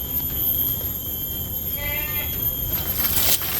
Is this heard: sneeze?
no